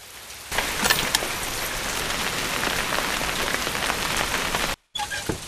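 Heavy monsoon-style rain pours down in a dense, loud, continuous roar of drops hitting surfaces, broken only by a brief cut near the end.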